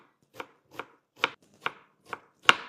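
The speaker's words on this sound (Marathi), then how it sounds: "आपण आता कांदा बारीक कट करून घेऊ" A knife finely chops onion on a board, six sharp, evenly spaced thuds over a few seconds, close and clear with quiet between strokes.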